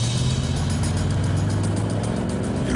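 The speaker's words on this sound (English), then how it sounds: "There's a car coming." A car approaching, heard as a steady low engine rumble and road noise that stays fairly constant and close throughout, with no voices over it.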